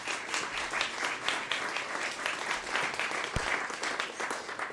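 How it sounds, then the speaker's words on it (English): An audience at a lifestyle and business talk event gives a round of applause, dense steady clapping at moderate level throughout, with no voices over it. "Please give them a round of applause."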